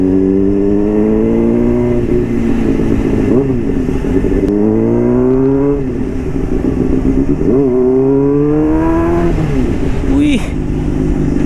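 A Honda CBR sport motorcycle ridden through narrow lanes, its engine revving up and down in repeated rising pitch sweeps, loud and close with wind noise.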